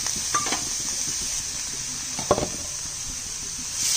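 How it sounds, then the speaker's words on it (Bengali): Pointed gourd frying in a little oil gives a steady broadband sizzle, with a few soft clinks and stirring scrapes of a utensil against the pan, one sharper knock near the middle. "তেল দিয়ে ভাজবো, হালকা তেল দিব।"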